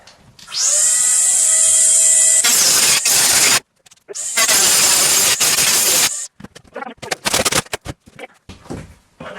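A power tool cuts through the fiberglass interior of a camper during demolition. A high, steady whine gives way to loud, coarse grinding bursts, then choppy stop-start cutting toward the end.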